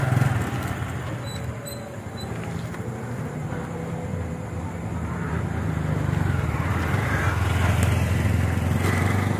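A motorcycle being ridden with its engine running steadily throughout, a continuous low drone that swells slightly louder toward the end, with no voices over it.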